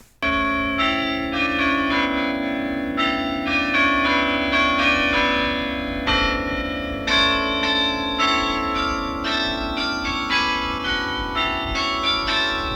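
Church bells, cast in Chicago and installed in 1927, peal loudly and continuously, overlapping strikes ringing out over a sustained humming tone.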